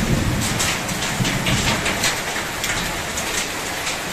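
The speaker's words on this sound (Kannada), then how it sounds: "ಆಲಿಕಲ್ಲು ಬೀಳ್ತಾ ಉಂಟು, ಹೆಕ್ಕುವ ಗೌಜಿ." Heavy rain mixed with falling hailstones, a dense, steady hiss of drops and pellets striking surfaces, loud and continuous throughout with no voices.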